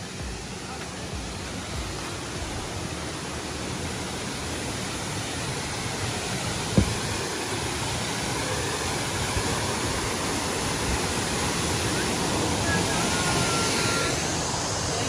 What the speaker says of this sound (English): Yeah guys, this is a beautiful waterfall